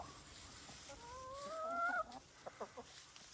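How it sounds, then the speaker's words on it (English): A chicken eating straw lets out a rising, drawn-out squawk, followed by a few short soft clucks, fairly quiet against a faint background hiss. "Time for dinner. Do chickens like straw?"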